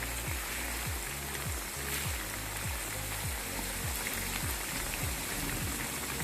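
Dendeng meat frying in a pan: a steady, crackling sizzle of hot oil, close and continuous, with a run of rhythmic scraping or tapping strokes underneath and no one talking.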